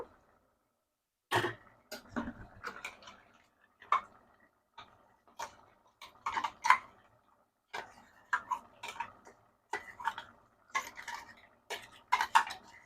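A spoon stirring ground masala into chicken curry with broad beans in a metal pot, with sharp clinks and scrapes in irregular bursts against near silence, close and fairly loud.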